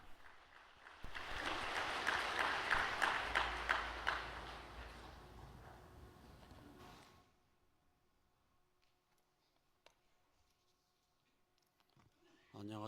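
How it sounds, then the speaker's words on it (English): An audience gives a round of applause to welcome President Lee Gi-sung to the stage. The clapping swells into a dense wash, then fades away to near silence, and a voice comes in at the very end. "Let's welcome him up with a big round of applause"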